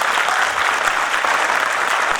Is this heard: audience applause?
yes